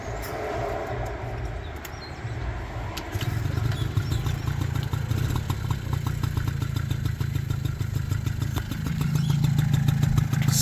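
A Honda Motocompo, a fully automatic small motorcycle, runs steadily with a low, buzzing engine note that grows louder and fuller after a few seconds and holds on continuously, with no talking.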